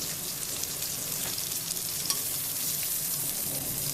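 Pieces of eggplant sizzle and crackle in hot oil, a steady frying hiss with an occasional stir or scrape.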